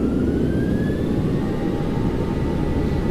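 LevelUP 737-800 jet engines in X-Plane 11 hold a steady, loud roar with rising whine tones as they spool toward takeoff thrust, continuous and unbroken with no talking.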